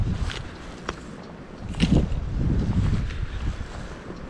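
Steady wind buffeting outdoors near a river while dry-fly fishing in March, a low rumbling roar with gusts swelling in the middle, no voices.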